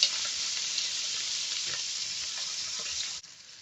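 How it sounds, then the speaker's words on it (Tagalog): Dried fish (daing) frying in a pan gives a steady, close, crackling sizzle that holds evenly for a few seconds before it suddenly drops away. "Mabilis lang ito maluto ang daing."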